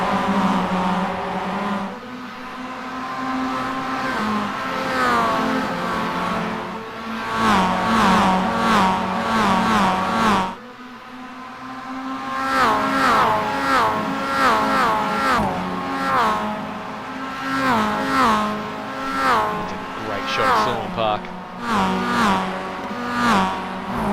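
Race cars in a BMG Summer Series round sweep over Skyline and into the S's, engines droning and shifting pitch steadily through the corners at moderate distance, a continuous layered motor roar with a brief dip midway.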